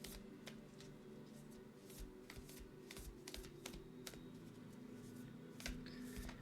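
A deck of tarot cards is shuffled, giving soft, quick clicks and riffles in an irregular rhythm. The sound is faint and close, with no talking.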